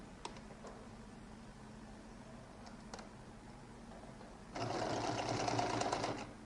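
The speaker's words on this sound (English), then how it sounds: "I'm going to sew the top alone" Sewing machine stitching the collar of a lady's jacket: a quiet room with a few faint ticks, then a steady, close motor hum with rapid needle rattle for the last two seconds.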